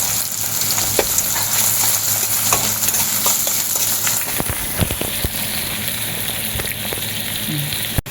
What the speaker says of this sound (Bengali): যাতে পেঁয়াজটা সুন্দর ভাজা হয় আর নরম হয়ে যায়।